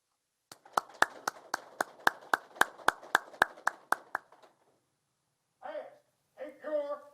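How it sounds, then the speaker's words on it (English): Slow, evenly spaced single claps ring out about a dozen times at a Detroit Police Department graduation ceremony, sharp and close, then trail off before talking begins. "Let's give the class a round of applause."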